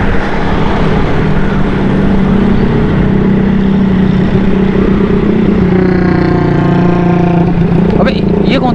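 A stripped-down Shapater motorcycle with nothing fitted but engine and seat rides on a Karachi street near Clifton. Its loud, rough engine drone sits under heavy road and wind noise, and a harmonic engine note swells close near the end.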